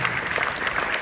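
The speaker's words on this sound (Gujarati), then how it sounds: "બધા આપણે જોરદાર તાળીઓ પાડીને કહેવાનું બતાવશું." Loud applause from an audience at a Swaminarayan satsang gathering, steady dense clapping throughout the short moment.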